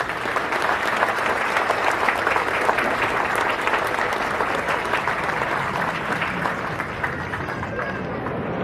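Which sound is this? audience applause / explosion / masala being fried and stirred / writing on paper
audience applause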